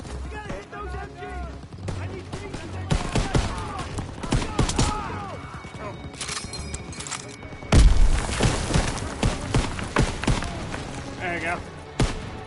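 Machine gun fire and explosions erupt in a Call of Duty WWII battle as troops come under fire from MGs in a barn, with dense bursts, booms and shouted voices over constant combat noise.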